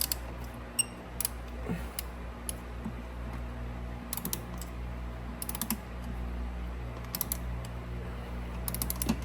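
A ratchet wrench with a swivel working on a Porsche Cayenne Turbo engine during a valve cover gasket job, giving short bursts of rapid clicking ratchet strokes spaced a second or two apart over a low steady hum.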